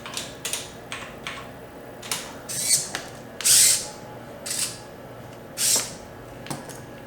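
Small hobby servos on a little walking robot reset to a neutral position, giving a series of short close clicks and brief whirring buzzes spaced irregularly over a few seconds, with no talk.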